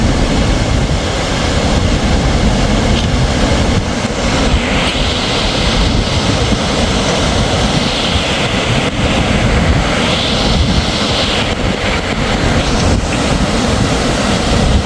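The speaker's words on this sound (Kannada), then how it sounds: "ಗೇಟ್ ಸನೇ ಬಂದೇವಿ ನೋಡ್ರಿ ಆಗ ನೀರು ಹೆಂಗೆ ಹರಿಯಾಕತ್ತಾವ" Water rushes through the gates of Basavasagar dam at Narayanapur, a loud, constant roar with wind buffeting the microphone throughout.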